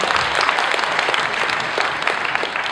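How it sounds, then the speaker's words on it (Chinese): Dense, steady applause from an audience at a formal Chinese cultural heritage event in Sweden, a broad wash of many hands clapping continuously at an even level throughout, with no voices standing out. "让我们再次用热烈的掌声感谢各位贵宾的来临"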